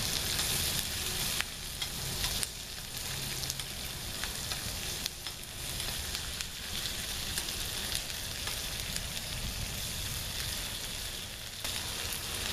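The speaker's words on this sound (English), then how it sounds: "Base Camp cook set. That's sauteing up nicely." Philly cheesesteak filling sizzles in a skillet from a Base Camp cook set while cooking in a camper van, a constant dense hiss with occasional spatula scrapes and faint pops, steady and close throughout with no speech.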